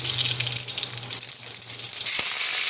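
Drumsticks and eggplants are washed under a running kitchen tap, a steady close splashing gush of water that swells louder near the end.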